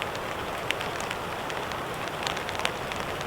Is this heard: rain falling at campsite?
yes